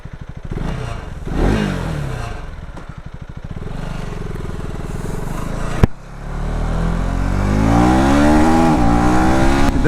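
A 2025 KTM Adventure 250 motorcycle fires up nearby and is blipped through several sharp revs, the single-cylinder note rising and falling loudly, followed by a sustained higher-pitched rev held steadily.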